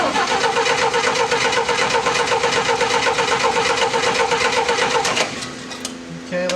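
A small gas engine catches and runs after being primed with a few pumps of fuel, a steady loud rapid chugging that drops off abruptly near the end.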